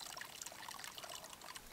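Cold water trickles and dribbles from a mountain spring in the High Uintas, a soft, steady babble with small bright splashes, faint and close.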